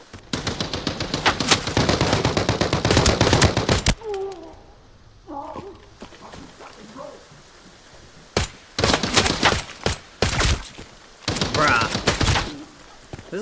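Automatic gunfire bursts rattle loud and close in a shooter game, Arena Breakout Infinite, with a long sustained volley, a pause with a voice talking, then several more short rapid bursts.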